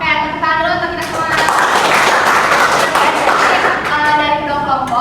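Classroom applause during a lesson, a burst of hand clapping from a group of students lasting several seconds, with voices talking over the start and end.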